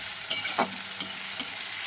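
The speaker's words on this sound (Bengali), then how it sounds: "আমি আজকে দেখো টমেটো পেঁয়াজ দিয়ে আর এখানে পুঁটি মাছ দিয়ে ভাজা করবো" Puti fish frying with tomato and onion in a pan, soft sizzling broken by a few scraping stirs of a spatula, fairly quiet and close, no voices.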